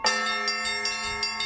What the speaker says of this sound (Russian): Однако главное событие – это звоны лучших мастеров России.